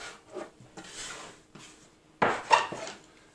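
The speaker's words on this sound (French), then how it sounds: "je coupe la pâte en deux" A knife cuts English muffin dough in two, making a few soft, close scraping and tapping sounds against a board in short separate bursts, the loudest near the end, with no talking.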